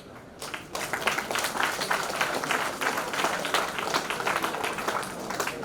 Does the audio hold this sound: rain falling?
no